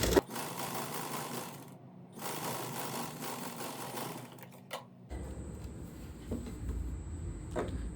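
A sewing machine stitches a dart into a blouse with a steady close whir, a brief pause, then a shift to a slightly different running tone for the last few seconds.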